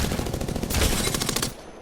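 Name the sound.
gunfire from a rifle in Apex Legends video game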